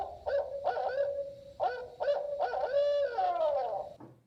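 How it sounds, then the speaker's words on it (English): Barred owl giving its rhythmic hooting call, a series of deep hoots in a 'who cooks for you' pattern ending in a drawn-out descending note, loud and clear with no talking. "The barred owl's call is put to the words, "Who cooks for you?""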